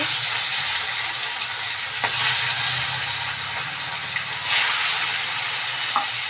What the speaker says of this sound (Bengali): তেল গরম হয়ে গেছে আমি মাছটাকে ছেড়ে দিচ্ছি